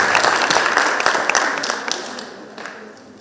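Audience applause at a concert event at Yerevan State University: a dense burst of many hands clapping that starts strong and gradually thins and fades over about three seconds.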